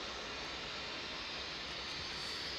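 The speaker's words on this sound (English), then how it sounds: "Oh, nice CFM startup." A CFM jet engine spools up on a freighter aircraft at East Midlands Airport at night, a steady broad whooshing roar heard at a distance with no talk.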